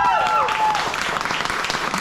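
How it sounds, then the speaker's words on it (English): An audience at an Irish music and dance show gives a round of applause for the performers. The clapping is dense and sustained throughout, mixed with a few crowd voices and some tonal sound at the very start. "Give yourselves a round of applause."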